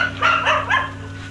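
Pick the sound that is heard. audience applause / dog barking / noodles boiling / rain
dog barking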